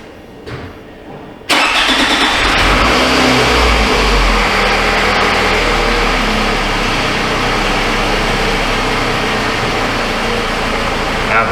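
After a brief quiet moment, a Toyota Camry with a dashboard warning-light fault cranks and fires up abruptly, then settles into a loud, steady idle close by that continues for around ten seconds.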